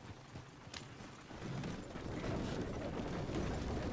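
Horse hooves in the Western game Red Dead Redemption, a faint rhythmic clip-clop of hooves on dirt that grows slightly louder and steadier over a quiet outdoor background.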